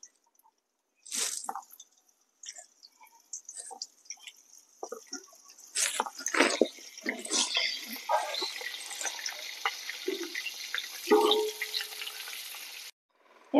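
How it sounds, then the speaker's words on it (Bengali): Pieces of pointed gourd fry in hot oil in a pan, with intermittent sizzling bursts, spatters and scraping stirs separated by quiet gaps, close and fairly soft. "আর বাকি পটলগুলোকেও আমি একই রকম ভাবে ভেজে নেব।"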